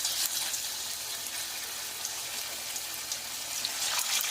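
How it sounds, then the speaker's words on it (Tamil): Sardines sizzle as they fry in hot oil in a pan, a steady close hiss and crackle with no talk over it. "வாங்க மத்தி மீனை பொரிச்சு எடுத்துடலாம்."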